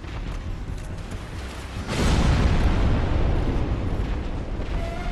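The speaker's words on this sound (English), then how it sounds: "I do take that explosion attack face on, I wouldn't expect to get up again" An explosion attack in Dark Souls hits as a sudden deep boom about two seconds in, followed by a sustained rumbling roar, loud and close, with no talk.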